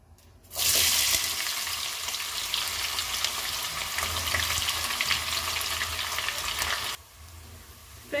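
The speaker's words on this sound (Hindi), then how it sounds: "अब इसको इसमें हम अनियन को फ्राई करके आधा बाहर निकाल लेंगे।" Onions hit hot oil in a wok with a sudden loud burst of frying hiss that holds steady and close for about six seconds, then cuts off abruptly.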